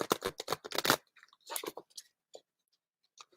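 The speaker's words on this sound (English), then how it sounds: "That was a terrible shuffle." Tarot cards being shuffled by hand, a quick burst of rapid riffling and slapping followed by a few scattered soft card taps, close and quiet.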